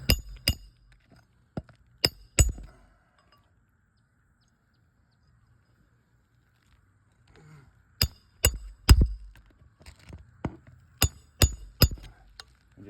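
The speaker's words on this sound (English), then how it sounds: "And just hammer that home." Sharp hammer blows drive a trim nail into a roof, first a quick cluster of strikes, then a long quiet gap, then another busy burst of close, ringing hits.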